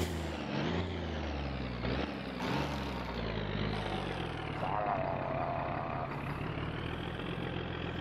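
Truck engine in the video game My Summer Car, a low droning run with shifting pitch and a few hissing bursts, steady and fairly quiet throughout.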